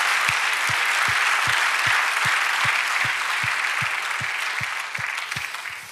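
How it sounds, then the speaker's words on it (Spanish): A church congregation claps loudly while a steady, evenly spaced low thump, likely a drum, beats beneath the applause, which tapers near the end. "Dale un aplauso al Señor."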